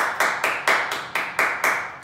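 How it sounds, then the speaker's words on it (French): A martial arts training group claps in unison, about nine sharp, evenly spaced claps in a steady rhythm, close and clear with no talking over them. "On s'applaudit."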